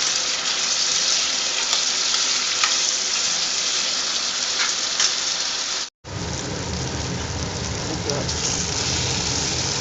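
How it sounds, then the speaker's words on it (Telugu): Tomatoes and green chillies frying in oil, a dense, continuous hiss and crackle much like rain, close and steady, broken by a brief cut near the middle. "టమాటాలు, పచ్చిమిరపకాయలు ఆయిల్లో ఫ్రై చేస్తాం."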